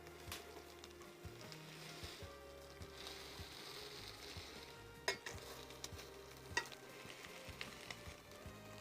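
Salmon croquette sizzling and frying in a pan after being flipped, a soft steady crackle with a couple of light utensil clinks, faint and close.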